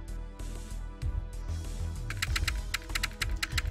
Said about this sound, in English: Inamoto tapped something into the keyboard.